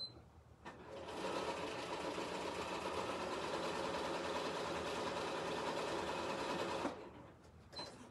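A BERNINA sewing machine stitches a double-needle pin tuck with the tension raised, a steady close mechanical whir running for about six seconds before stopping, with brief quiet at either end.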